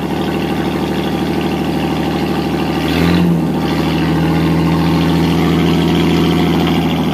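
A Chrysler flathead six marine engine in a 1955 Lyman 20-foot runabout idles loudly and evenly up close, with a steady throbbing hum that dips briefly partway through.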